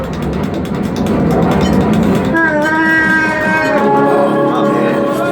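A rumbling, clattering train sound with a rising harmonic whistle partway through, loud and continuous, inside the Millennium Falcon: Smugglers Run ride at Star Wars: Galaxy's Edge.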